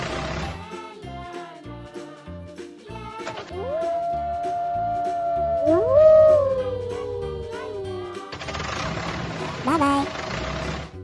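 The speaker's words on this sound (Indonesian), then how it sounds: "Wolf." A wolf gives a long, drawn-out howl that rises and slowly falls, a second howl overlapping it, over a background of light music with a rhythmic beat in an animated animal show.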